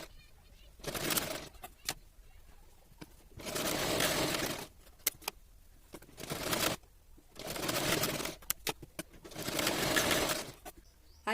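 An electric sewing machine stitches a twice-folded fabric hook strip for a princess-cut blouse in repeated bursts of rapid whirring, separated by short pauses and small clicks.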